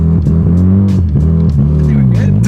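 A right-hand-drive Mazda RX-7 engine revs loud and close as the car pulls away, its pitch rising and dipping through several throttle blips.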